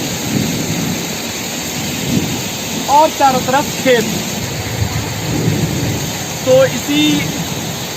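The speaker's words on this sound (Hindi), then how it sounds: "कितनी तेज़ बिजली कड़क रही है, आसपास ही कहीं बिजली गिर रही है।" Thunder and rain of a monsoon storm over a village surrounded by fields, a steady roar of rainfall with low rumbling, while someone talks over it.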